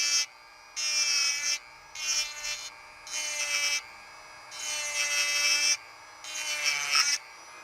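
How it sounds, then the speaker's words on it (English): A Vevor handheld rotary grinder at 20,000 RPM spins a single cut carbide burr against a workpiece in six bursts of bright, high whining grind separated by quieter spin-down gaps, close up with no talk. "This is a single cut carbide burr, not really bogging down."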